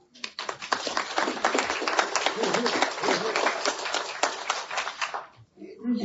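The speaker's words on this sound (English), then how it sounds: "can I get another round of applause?" Applause fills a room at a submarine veterans' base Christmas party, dense clapping from a crowd that holds steady for about five seconds before breaking off.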